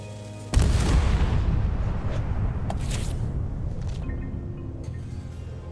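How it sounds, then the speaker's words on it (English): A ship's cannon booms once in the video game Return to Monkey Island, a sudden heavy blast followed by a long rumbling decay with a few smaller crackles trailing off. "Ready for cannon firing."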